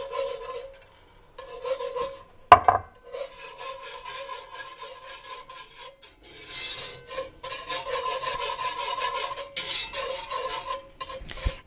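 Spoon scraping and stirring cream into boiling paprika chicken sauce in a pot, rhythmic rasping strokes close up, with a sharp metallic knock early on.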